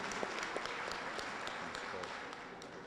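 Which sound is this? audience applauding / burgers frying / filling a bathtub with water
audience applauding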